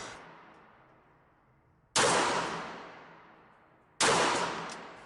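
Two single-action shots from a P-64 9x18 Makarov pistol, each a sharp loud crack with a long ringing decay, spaced about two seconds apart after the tail of an earlier shot.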